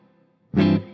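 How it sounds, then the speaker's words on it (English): A single guitar chord rings through an Orange Crush Pro CR120H amp with its plate reverb, a loud, bright strum after a quiet lead-in, sustaining briefly before a short, tight reflective decay. "And then you have a plate reverb, which is a much shorter reflection."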